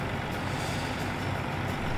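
A truck driving in Farming Simulator 19, giving a steady, dense engine rumble that runs unbroken and fairly loud throughout with no talk over it.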